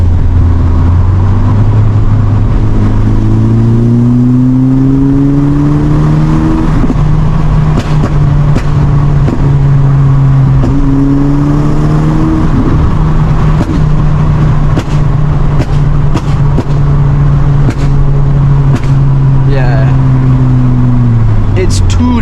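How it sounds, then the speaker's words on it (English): A tuned Golf GTI engine over-revs, droning loudly and revving up and down repeatedly, with a deep, rumbling loud exhaust throughout and a person talking underneath. "Is it over revving? It's just over revving."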